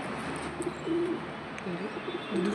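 Pigeon cooing in soft, repeated low calls, close by, with a few brief gaps between phrases and light background noise.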